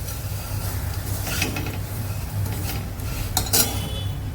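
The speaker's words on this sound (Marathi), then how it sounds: "हळूहळू गूळ यात मी सगळं टाकते आणि असं मिक्स करायचं" Jaggery melts in a pan for kurmura ladoo while a spoon scrapes and clinks against the metal in irregular strokes. A faint sizzle runs underneath, close and moderately loud, with no voices.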